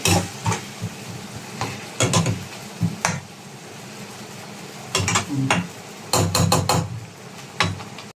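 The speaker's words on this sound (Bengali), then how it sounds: "এবার এটাকে আমরা একটুখানি ভালো করে সাঁতলাবো" Onions sautéing in mustard paste in a pan, bursts of sizzling frying alternating with clattering stirring strokes of a utensil against the pan, close and fairly loud, with quieter gaps between.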